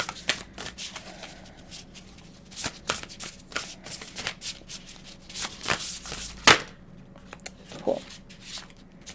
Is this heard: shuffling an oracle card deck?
yes